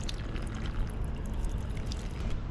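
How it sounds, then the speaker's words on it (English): Water gushes steadily from a free public drinking fountain in a park in Okinawa, Japan, a continuous close splashing pour with no pauses. "Almost every single park here in Japan, not just Okinawa, have this free water fountain."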